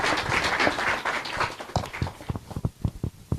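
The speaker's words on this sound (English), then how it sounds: "Please give a round of applause to Olive as she comes." Audience members at a youth agri-food trade fair and expo applaud as a speaker comes up, starting as dense clapping, then thinning out into scattered individual claps that fade away.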